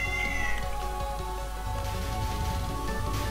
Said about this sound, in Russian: Что за мяуканье тут еще у нас?